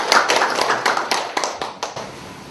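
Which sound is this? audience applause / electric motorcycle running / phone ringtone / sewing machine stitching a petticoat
audience applause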